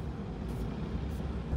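Inside a converted Toyota Fortuner with a 3.0-litre engine, after an accident, a dense continuous rumble and rattle of the cabin fills the short stretch at steady loudness with no talk.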